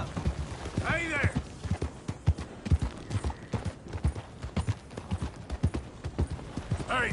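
A horse gallops in a Western video game, its rapid hoofbeats clopping close and rhythmic, with a brief whinny near the start and another at the end, under occasional spoken lines.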